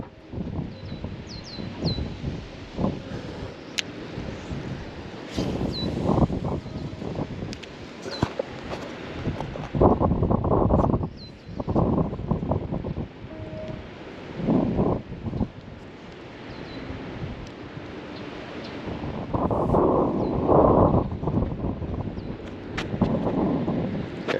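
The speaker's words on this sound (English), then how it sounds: "It's real windy out." Strong wind buffets and roars in heavy gusts for the whole stretch, rising and falling, with a few faint bird chirps in the background.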